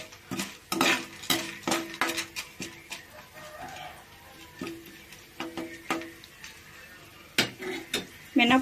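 Lentils frying in leftover oil in a pan while a spoon stirs them, giving repeated sharp clinks and scrapes of metal against the pan in an irregular rhythm, close and fairly loud.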